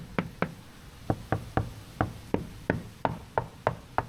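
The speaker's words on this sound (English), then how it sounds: "you want to check the transom to make sure that it's solid and not falling apart, can't guarantee that it doesn't have water in it, but you can knock on it" Knuckles knock on a used boat's transom near the outboard motor, a dozen sharp, solid-sounding raps in an uneven rhythm, close and clear with no talking.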